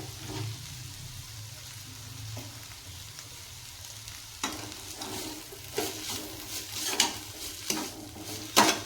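Ridge gourd chutney ingredients fry in oil in a pan at moderate heat, a steady close sizzle with occasional stirring scrapes that grow louder toward the end, no voices.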